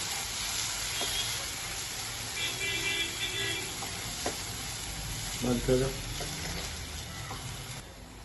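Homemade pizza sauce with Kashmiri red chili is stirred in a hot pan: a continuous close sizzle with soft scraping strokes and brief faint voice-like sounds in the background.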